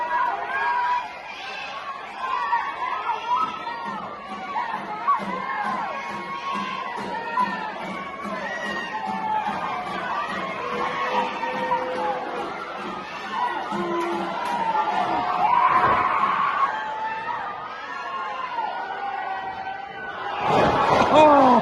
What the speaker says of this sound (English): Listen to that crowd screaming though.